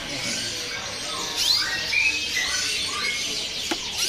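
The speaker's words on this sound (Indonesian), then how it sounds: "Di sini juga ada burung kenari star blue gacoran." A star blue canary, a songbird offered at a market stall, sings in thin high chirps and squeaky trills, moderately close over a steady background hiss with no talking.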